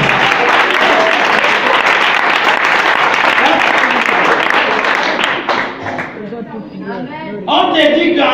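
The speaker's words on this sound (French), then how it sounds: "Acclamez-moi mon frère" Loud, sustained audience applause and cheering at a French-language sermon gathering, dense clapping filling several seconds before easing, then voices speaking through the fading claps and a fresh surge at the end.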